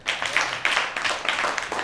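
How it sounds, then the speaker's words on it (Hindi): Children in a Hindi religious study class clap together for themselves. The applause is a brisk, uneven patter of many hands, steady and fairly close, and lasts under two seconds. "अब सब बच्चे अपने लिए ताली बजाएंगे।"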